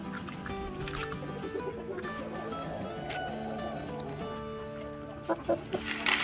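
A white rooster and hens clucking steadily and close by while being fed corn by hand, with continuous overlapping calls and a few louder bursts near the end.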